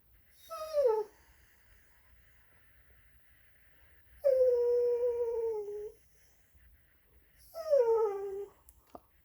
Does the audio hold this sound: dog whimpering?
yes